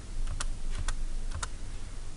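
Keys on a scientific calculator are pressed to enter a ratio for an inverse sine calculation, making three quick, light, close taps spaced about half a second apart over a faint background.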